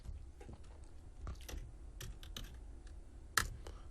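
Keys clatter on a computer keyboard as a short command is typed, quick irregular clicks close to the microphone with a sharper final keystroke like Enter near the end.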